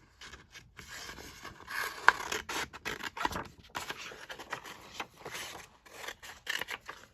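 Scissors cut round a piece of craft paper in a run of soft, quick snips and scrapes, close by and fairly quiet, with no talk.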